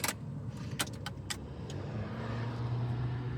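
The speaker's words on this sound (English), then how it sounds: "Let's start this guy up." A Nissan Be-1 Pike car engine starts up with a few short cranking clicks followed by a low, steady idle hum close by, fairly quiet.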